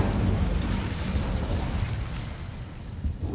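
A fiery Incendio spell bursts out in the Hogwarts Legacy game, a loud, dense rushing roar with a low rumbling body that holds steady and tapers only slightly across the few seconds, with no voices.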